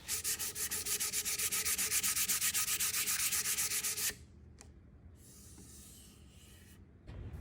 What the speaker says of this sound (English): you're sanding with a high grit of sandpaper